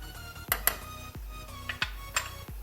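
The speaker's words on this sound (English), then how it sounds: "So just stirring, making sure it's not sticking in the bottom" A spoon stirring turmeric milk with semolina in a pan scrapes and clinks against the metal in quiet, irregular taps, about half a dozen soft knocks over a few seconds.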